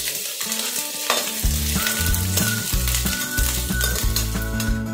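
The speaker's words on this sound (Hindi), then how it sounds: "अब हम इसमें फ्राई कर लेंगे कुछ पनीर के पीसेस को" Small pieces of paneer frying in hot oil in a pan, a loud continuous sizzle and crackle with clinks and scrapes of a utensil stirring, no voices.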